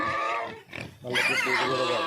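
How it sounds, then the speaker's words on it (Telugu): Large pigs on a village pig farm grunt and squeal close by in harsh, raspy bursts, with a short lull in the middle. "ఈ చిన్న చిన్న పందులు కాదు పెద్ద పెద్దటివి అన్నీ"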